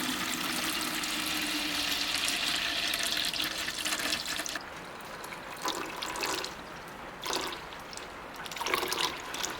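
Water poured from a bucket into a 2JZ oil pan resting on a toolbox, a steady loud splashing rush that thins into a lighter trickle with a few separate spurts toward the end.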